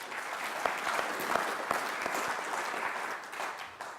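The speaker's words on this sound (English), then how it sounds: "So let's give Sarah a quick, warm round of applause." Conference audience at the RICS UK Summit 2016 gives a warm round of applause: dense, steady clapping from many hands filling the whole stretch, with no talk over it.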